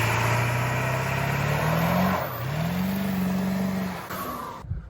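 2007 Power Stroke diesel truck engine revving up and holding high, dipping briefly and climbing again before cutting off, loud and close.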